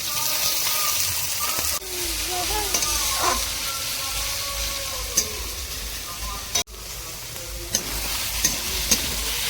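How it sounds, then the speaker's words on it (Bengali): Onions fry in a pan for a potato and pea ghugni, with a continuous close sizzle and occasional clinks and scrapes as they are stirred. "পেঁয়াজটাকে ভেজে নিচ্ছে"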